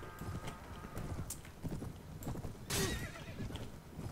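Horse hooves clip-clop in a steady rhythm with a neigh in the medieval strategy game Anno Domini 1257, heard close and fairly loud under game background.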